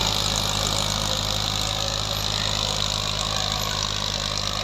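A Massey Ferguson 240 tractor, a 2000 model, runs with a steady, close engine drone and low continuous hum, unbroken and without speech.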